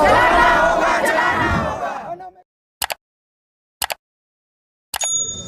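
A loud protest crowd in Chhattisgarh, gathered in anger over a law student's remarks about Babasaheb, roars and chants in unison for about two seconds. Then it cuts to near silence broken by three short bursts.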